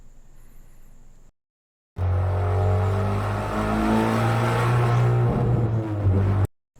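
A car engine drones loudly and steadily with a smeared, hollow echo from an endless-tunnel reverb effect, preceded by a brief quiet stretch and a gap of silence, then cut off abruptly.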